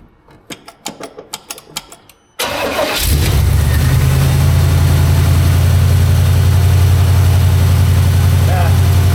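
A 1949 GMC truck engine with no choke or idle set: a few sharp clicks and knocks, then it cranks and catches into a loud, steady, rumbling idle close by.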